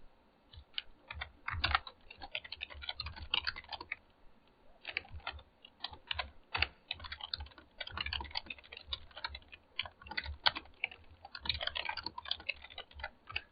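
Fingers type on a computer keyboard in irregular bursts of quick, soft key clicks with short pauses between words, close and fairly quiet with no talking.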